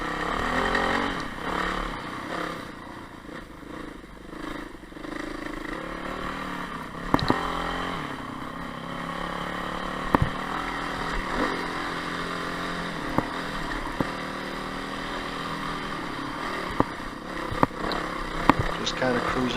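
Off-road motorbikes ride along on a sunny day, their engines droning and shifting in revs with occasional sharp knocks and clicks, while a voice talks over them.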